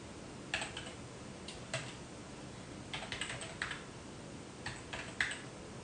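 Keys on a computer keyboard are tapped in short, quiet bursts of clicks while an email address is typed, with brief pauses between clusters.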